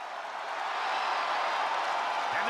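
A video game wrestling arena crowd in WWE 2K25 roars in a steady, dense wash of cheering that holds at an even level throughout, with no voices standing out.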